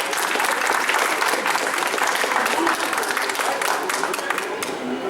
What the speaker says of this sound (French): qu'on applaudit encore, s'il vous plaît